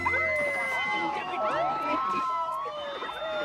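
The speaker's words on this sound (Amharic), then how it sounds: "በፖሊስ መኪናዎች አጠገብ ሲያልፍ በድንገት ሳይረን መጮህ ጀመረ።" Police car sirens in a movie scene wail with rising and falling sweeps, several tones overlapping, fairly loud and sustained throughout.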